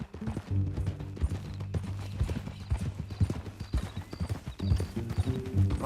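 Steady clip-clop of horse hooves trotting at an even rhythm in Red Dead Redemption 2, with a brief whinny and faint voices mixed underneath.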